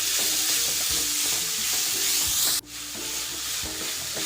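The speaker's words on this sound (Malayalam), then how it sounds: "ഇത് നന്നായിട്ട് മിക്സ് ചെയ്ത് നമുക്കൊന്ന് മൂടി വയ്ക്കാം" Bitter gourd thoran is stirred in a hot pan, a steady sizzle with repeated scraping strokes, close and continuous, briefly dipping near the end.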